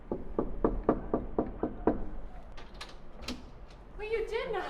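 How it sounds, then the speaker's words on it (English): Someone knocks on a door in a Mexico City building, about eight evenly spaced raps at close range. Faint voices and a short exclamation follow after the knocking stops. "Well, you did knock."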